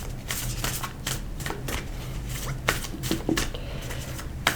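Oracle cards being shuffled by hand: a steady run of soft papery riffles and flicks, close and continuous for several seconds, with no talking.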